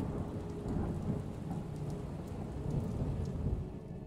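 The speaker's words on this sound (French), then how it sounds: "Pour couronner le tout, une violente pluie éclate." Violent rain pours steadily in a thunderstorm, with a deep rolling thunder rumble mixed into the constant hiss of heavy downpour.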